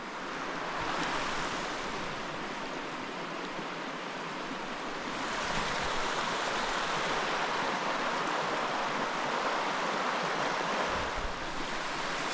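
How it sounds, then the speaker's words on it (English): A Yukon river at first freeze-up carries floating ice and snow, its steady rushing wash continuous and fairly loud throughout, with wind noise on the microphone. "there's like ice and snow floating in the river"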